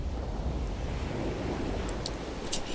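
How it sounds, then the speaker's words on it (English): Calm ocean waves on a beach at night make a steady, close, broadband wash with a slight breezy hiss, continuous and unbroken, with no one speaking. "You can hear the ocean sounds."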